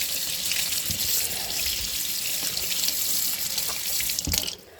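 Makeup brushes are washed under a running tap at a sink, a steady close hiss of flowing water with small splashes and shifts as the brushes move through the stream, cutting off at the end.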